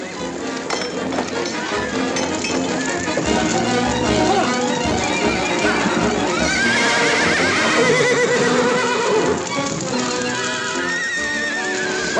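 Horses at a ranch in an old Western film whinny and neigh over clip-clopping hooves and metallic clinks, the neighs rising clearly mid-scene above the busy, close-up activity.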